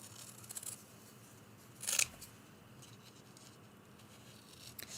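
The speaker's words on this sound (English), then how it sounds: "Going through, cutting." Scissors snip through fabric, cutting out leaf shapes for a quilted Thanksgiving mug rug. A short, crisp burst of cutting rises midway through an otherwise quiet room.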